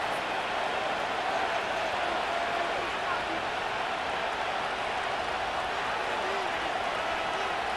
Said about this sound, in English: This crowd into it now as we get to 3rd down.